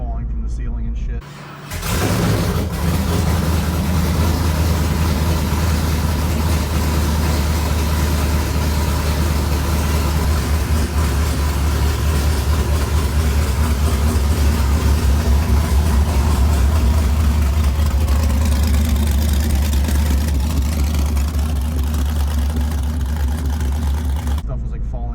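A modified 1000HP twin-turbo Camaro ZL1 engine starts in a garage with a sputter, then settles into a deep, steady rumbling idle that continues loudly for the rest of the clip.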